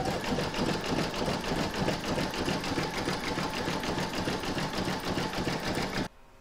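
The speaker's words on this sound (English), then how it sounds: "Next is round number 14, and that's going to do the satin stitching across the top edge here" An embroidery machine satin stitches the top edge of an in-the-hoop mandala placemat, a fast continuous mechanical whirring and rattling that runs steadily, then cuts off abruptly near the end.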